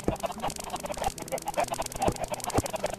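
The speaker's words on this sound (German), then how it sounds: "Dann nimmt das Gacker vielleicht noch ein bisschen ab" Minecraft chickens cluck repeatedly in the video game, a steady run of clipped in-game clucks blended with background game sounds and music, no voices.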